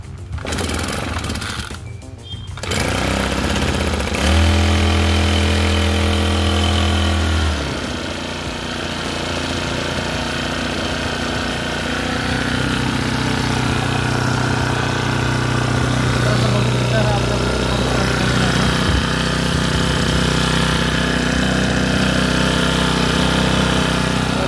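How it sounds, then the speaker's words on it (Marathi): A 4-stroke Aspee petrol engine on an agricultural sprayer pump is pulled to start, catches and settles into a steady running drone close by, with talk over the engine at times. "आता आपण पेट्रोल पंप स्टार्ट करूया"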